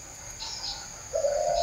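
Spotted dove cooing at a nesting box, a soft low call that swells near the end over a faint steady background hiss, with brief chirps earlier.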